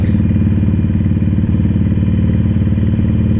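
Harley-Davidson Iron 883 Sportster being ridden on curving roads, its engine a steady, loud, throbbing low rumble with a continuous even pulse throughout, close to the microphone and without talk.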